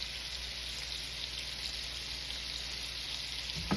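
Chicken fries in butter in a pan with a steady, even sizzle like a soft crackling hiss, faint and constant all the way through, and no one speaks.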